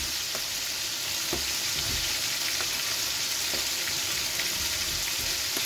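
Mung beans and aromatics sauté in a hot pan for ginisang monggo, a steady loud sizzle and crackle throughout with occasional stirring clicks, and no talk.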